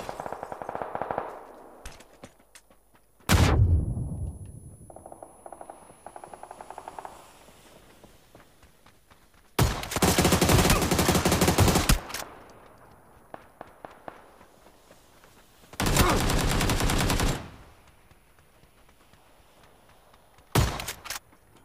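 Gunfire in an online shooter game: several bursts of loud, dense rapid shots, each a second or two long, between stretches of quieter footsteps and movement.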